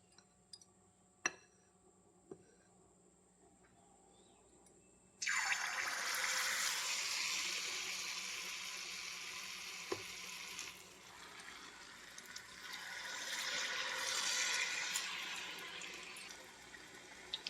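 Semi-liquid wheat-flour bonda batter dropped into hot oil, starting with a sudden loud sizzle that keeps hissing and bubbling steadily at close range, after a few quiet clicks.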